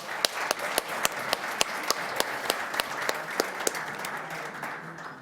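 Audience applause at a Toronto Transit Commission board meeting, a steady wash of clapping with a few sharp individual claps standing out, sustained for several seconds without speech.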